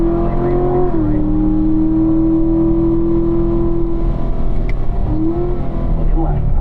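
A race car engine drones loudly and steadily on a circuit, its pitch dipping briefly near the start and then holding a sustained high-revving tone, with a short rise toward the end.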